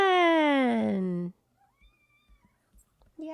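A house cat gives one long, loud, drawn-out meow close by, then near silence with a few soft faint taps before a person begins talking.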